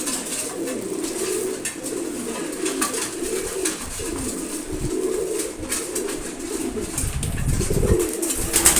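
Pigeons coo steadily on a pigeon farm, their low, throaty calls rolling continuously and overlapping at close range with no talk.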